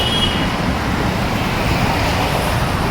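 Dense road traffic in a jam rumbles loudly and steadily, a continuous roar of idling and crawling cars, buses and trucks with no clear gaps.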